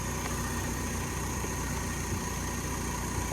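A 2-liter 4-cylinder car engine idles steadily after a cold start, a continuous low rumble with a faint high whine, close and constant throughout with no talking.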